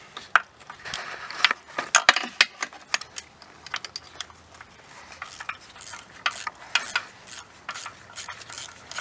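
Ratchet clicking and metallic tool clatter while loosening bolts during a GM 3800 supercharged engine teardown, with short bursts of rapid clicks and clinks at close range, no talking.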